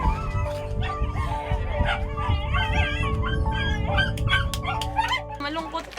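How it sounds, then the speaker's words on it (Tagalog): Dogs left on an island whimper, yip and bark over one another in a close, busy chorus, with occasional howl-like whines rising above the noise. "Bago tuluyang mawalay kina Lyndon at Kay ang mga aso ng Pulong Malaki"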